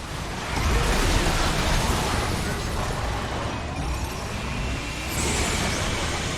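Detonation of a special weapon in the PS3 game Twisted Metal: a sustained, loud roaring blast of dense noise lasting several seconds, with a fresh surge near the end amid car-combat rumble.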